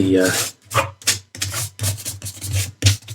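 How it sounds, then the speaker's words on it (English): An eraser rubbing out pencil writing in the back of an old Hutchinson book during a repair, in repeated short scrubbing strokes with brief pauses, close and loud, with no talk over it. "there's a bit of writing in the back there that we're going to need to rub out"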